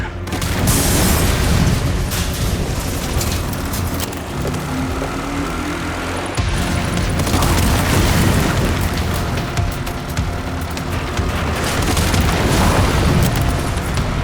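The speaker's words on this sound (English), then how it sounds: "all the propane tanks are perfectly placed for you to shoot them to make a path" Propane tanks blow up one after another when shot in a video game, loud rolling booms recurring across the stretch over a constant rumbling, engine-like din.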